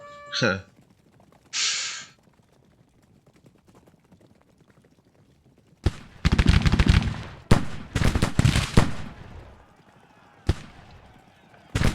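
Skirmisher gunfire in a Civil War video game, a rapid cluster of loud, close musket shots cracking in bursts, followed by a few isolated shots after earlier quiet and brief game sounds.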